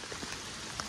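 Heavy rain pours at K Gudi near a river, a dense, steady hiss of drops striking surfaces, fairly soft and unbroken for the short moment, with no voices.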